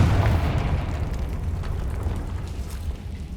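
Confringo spell explosion in the video game Hogwarts Legacy, a loud low boom that rolls into a rumbling, fading roar over a few seconds.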